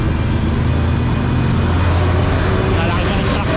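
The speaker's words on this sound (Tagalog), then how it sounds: "Dami sasakyan. Kahit holiday," Constant roar of heavy holiday traffic on a busy road near Metro Manila: cars, buses and other vehicles blend into a loud, unbroken rumble close by.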